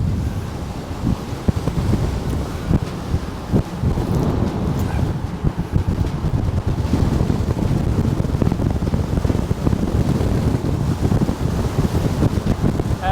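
Heavy wind buffeting a microphone while riding a Lynx at high speed, a loud continuous roar with low rumble lasting throughout, no speech.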